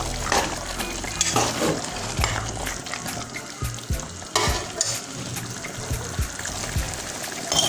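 Chicken and blanched spinach sizzle and are stirred in a pot, with a steady frying hiss, wet stirring scrapes and knocks of the spoon, close and fairly loud, no talking.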